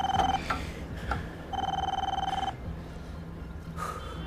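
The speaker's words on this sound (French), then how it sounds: "Parce que là, c'est Kea Koza qui appelle." A telephone rings for an incoming call in a TV drama scene, two bursts of electronic ringing tones with a short gap between them, close and clear, followed by quieter room sound.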